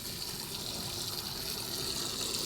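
Water gushes steadily from a tap into a bucket, a continuous close rushing pour with no talk.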